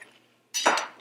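A glass dish set down in a kitchen during fridge prep gives one bright clink with a short ringing tail, close and fairly loud after a near-silent moment.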